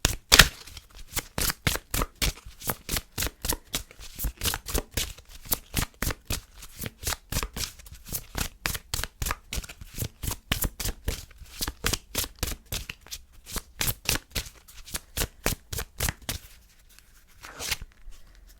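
Romance oracle cards are shuffled by hand for a pick-a-card reading, with a steady run of close, crisp riffling slaps that carries on for the whole stretch and briefly stops near the end.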